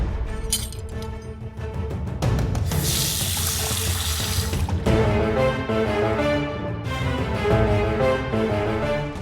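A water tap runs into a sink while hands are washed, a steady close splashing stream with shifting pitch as the flow strikes hands and basin.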